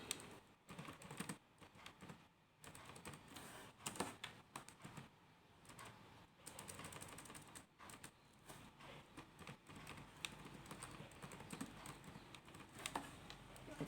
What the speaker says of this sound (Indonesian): kita ketik nama kelas sampai selesai ya